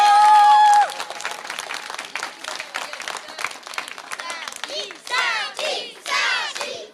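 A small crowd at a Christmas celebration claps for Satie, a patter of hands heard after a brief tone, with excited voices and cheers rising over the applause toward the end.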